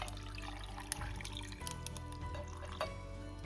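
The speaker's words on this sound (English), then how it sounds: "we're going to take some ice, and then you can just pour the tea straight in there" Iced tea, a caffeine-free spring herbal brew, poured straight over ice in a glass: a steady close-up liquid stream with light drips and occasional clinks, no voices.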